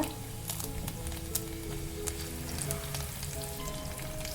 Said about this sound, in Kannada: ಸಾಸಿವೆ ಜೀರಿಗೆ ಚಟಪಟ ಅಂದಂಗೆ